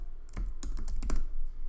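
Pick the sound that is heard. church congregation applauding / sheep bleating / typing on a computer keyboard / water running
typing on a computer keyboard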